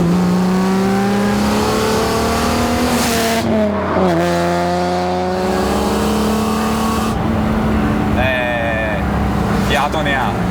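A modified Alfa Romeo GTV6 V6 with a very low exhaust revs hard on a race track, loud and close, climbing through the gears with sharp shifts and renewed acceleration. A voice speaks over the engine.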